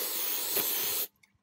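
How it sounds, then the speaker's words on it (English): Contact cleaner sprayed from an aerosol can into the cartridge slot of a SEGA Genesis console, a single close, loud hiss lasting about a second before cutting off abruptly, followed by a few faint clicks. "So we'll just spray some down the slot there"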